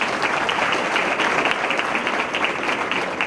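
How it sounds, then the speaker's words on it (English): A hall full of people clapping at a high school annual prize distribution, a dense, steady round of applause that stays even in loudness from start to finish. "A big round of applause"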